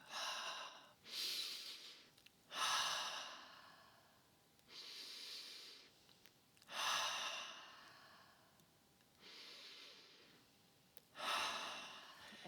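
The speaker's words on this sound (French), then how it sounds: "vous inspirez profondément par le nez, puis vous expirez par la bouche" Deep breaths during an energy routine, drawn in through the nose and let out through the mouth, a slow rhythmic series of about six soft, close breath sounds separated by quiet gaps.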